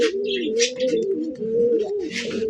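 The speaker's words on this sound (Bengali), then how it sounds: "বন্ধুরা এখানে একজোড়া ইন্ডিয়ান মুম্বাই কবুতর আছে" A pair of yellow Indian Mumbai pigeons, a male and a female, coo continuously and close by at a pigeon sale, with rolling, overlapping low calls and a few faint higher chirps in the background.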